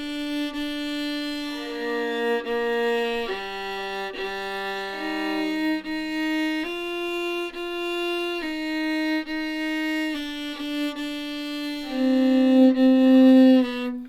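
A bowed string instrument plays an etude in slurs, repeating each previous note before moving on: a clear, sustained solo line of smoothly connected pitches stepping up and down at an even pace, alone and moderately loud.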